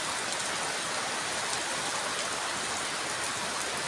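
Heavy rain falls without pause outside as pigeons fly, a broad, uniform wash of pattering drops, close and loud, with nothing else standing out.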